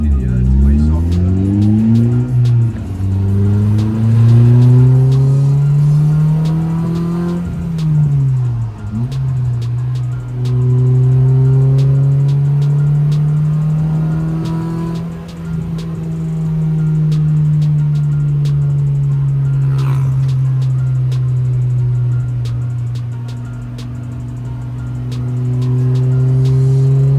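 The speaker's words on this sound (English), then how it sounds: "So I just left Jalen, new exhaust is fitted. Actually sounds very soft." A K-series Honda Civic with a newly fitted exhaust revs up and down nearby. The engine note is fairly soft and smooth, rising and falling several times before settling into a steady idle-like drone.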